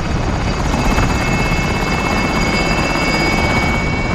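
A helicopter in the video game Call of Duty Warzone Pacific, a loud, close, steady rotor drone with a rapid thumping pulse and a constant high whine, heard alone without any talk.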